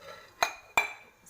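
A metal lid set onto a pot of cooked fish makes two quick, light clinks a fraction of a second apart, close by and fairly quiet against a hushed background.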